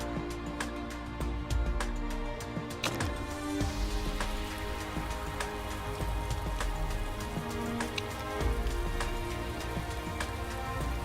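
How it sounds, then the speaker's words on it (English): Heavy rain in the Motorsport Manager racing game during a practice session, a steady dense patter of drops at constant loudness with no talk. "And we've got some heavy rain going on for practice."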